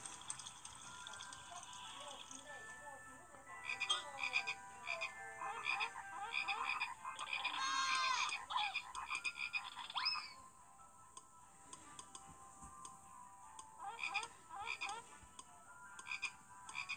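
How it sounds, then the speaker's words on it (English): Frogs croak in a children's Bible story of the plague of frogs in Egypt: a chorus of rapid, rattling calls that swells, fades and returns in irregular clusters, fairly close, with no talking. "Then he filled the Egyptian house with frogs. Frogs were everywhere."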